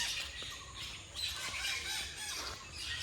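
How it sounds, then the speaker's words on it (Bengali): Several forest birds call and squawk in a busy outdoor chorus in the Bibhutibhushan Wildlife Sanctuary at Parmadan, fairly continuous and moderately loud, with no talking. "এত সুন্দর সুন্দর পাখির আওয়াজ মানে সেগুলো সত্যিই দারুণ লাগছে"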